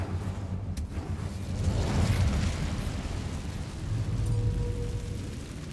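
Incendio fire spell cast in Hogwarts Legacy, a roaring burst of flame with a deep rumbling whoosh that swells, dips, then flares again, loud and close with no talking.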